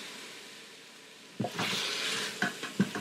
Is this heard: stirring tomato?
yes